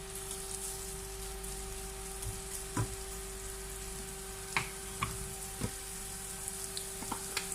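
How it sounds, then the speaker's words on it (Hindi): Chicken pieces frying a second time in a pan of hot oil, a steady crackling sizzle with a few sharper pops and spatters, heard alone without talk. "अब इसको एक बार फिर से फ्राई करेंगे।"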